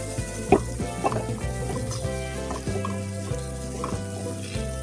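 An egg is stirred into a snack batter with a spoon, a close run of soft scraping strokes and light knocks over a steady tonal hum, with no voices.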